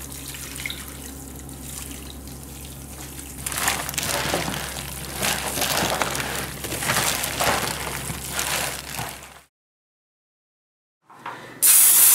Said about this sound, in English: we're going to spray our aluminum pans here just so it comes out of the pans a little easier